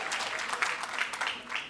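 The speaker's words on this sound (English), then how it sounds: "To the head of the AFL-CIO, Mario Salento, let's give him a round of applause." Crowd at a labor event with the governor applauding the head of the AFL-CIO, a short, dense burst of many hands clapping close by, alone without talk.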